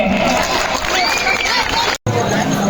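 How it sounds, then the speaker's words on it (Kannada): A crowd at a village Independence Day celebration claps loudly and continuously, a dense, close burst of applause that briefly cuts out before resuming, with a hum of voices underneath. "ಜೋರಾದ ಚಪ್ಪಾಳೆ"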